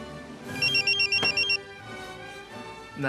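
Telephone ringing in bursts of about six rapid electronic trills over roughly a second, fairly loud and close, with quiet room noise before and after.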